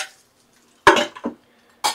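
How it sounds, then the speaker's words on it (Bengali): Fried prawns are lifted from a pan into a bowl: three short, close metallic clinks and scrapes of utensil against cookware separated by silence. "তো আমি দেখো একটা পাত্রে আমি মাছগুলোকে উঠিয়ে নিচ্ছি"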